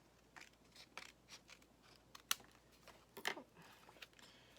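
Scissors trim card stock close up with a few quiet, crisp snips at uneven intervals, two sharper cuts standing out over a low, steady background hum.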